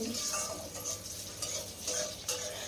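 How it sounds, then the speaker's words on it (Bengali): Chopped onions fry with asafoetida in a pan, making a soft, low sizzle with repeated stirring scrapes every half second or so. The sound is fairly quiet and close. "পেঁয়াজটাকে হালকা করে একটু ভেজে নিতে হবে।"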